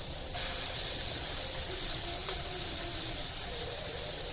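Loud, steady sizzling hiss of marinated fish frying on a hot griddle pan, constant and close, with a faint clink partway through.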